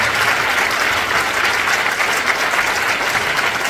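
Sustained, dense audience applause at a folk ensemble concert in a large palace of culture hall, loud and steady throughout with no talk over it.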